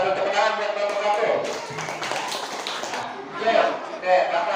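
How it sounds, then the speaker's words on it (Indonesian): Scattered classroom applause from pupils for a group that just presented, brief patchy clapping mixed with children's chatter and voices. "Tepuk tangan buat kelompok 1."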